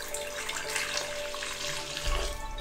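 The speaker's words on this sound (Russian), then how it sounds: "Заливаем их теплой водой." Warm water pours steadily onto yeast in a bowl nearby, a continuous splashing trickle that swells slightly louder near the end.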